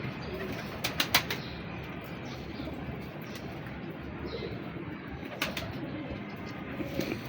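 Kasuri pigeons coo softly nearby, with a few brief wing flutters and scratchy movements over a low background rumble.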